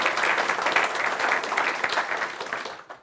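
Audience applause after a conference talk, brisk clapping from a modest crowd that holds steady and then fades out at the end.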